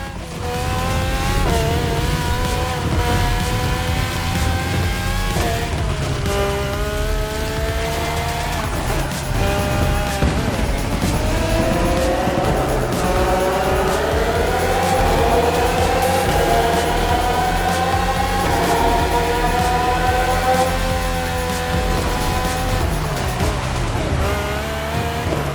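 Red Bull Formula 1 cars from four generations, RB13, RB14, RB18 and RB20 with Renault and Honda engines, race in The Crew Motorfest, a continuous loud engine roar rising and falling through gear changes as the cars pass, with no talk.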